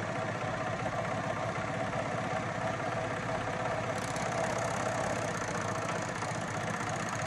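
A Baby Lock Vibrant serger stitches through a scrap piece of fabric, giving a steady, close mechanical whir with a fast rapid clatter that runs unbroken throughout, with no talking.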